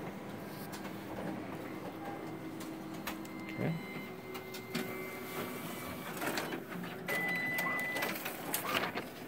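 A Konica Minolta Bizhub C364e office copier runs through a single copy nearby, with a steady mechanical whir, rolling feed noise, intermittent clicks and short electronic tones from the document feeder and print engine.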